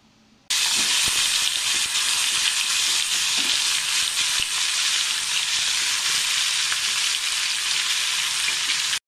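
Green tomato pieces dropped into hot tempering oil: a loud, steady, hissing sizzle that bursts in suddenly and holds evenly at close range, with faint stirring taps underneath and no talk.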